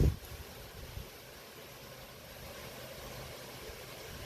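Wind blows steadily outdoors at a remote Appalachian forest camp, a soft, broad rushing hiss close to the microphone with a faint thump at the start and no voices.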